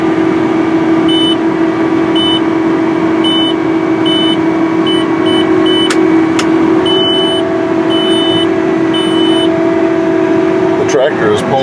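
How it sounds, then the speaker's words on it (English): A Case IH Quadtrac 470 CVX tractor pulling a 24-row planter while planting corn on auto guidance drones steadily close by, with a string of short electronic beeps from the guidance system over the engine hum. "this big tractor is on auto guidance planting corn"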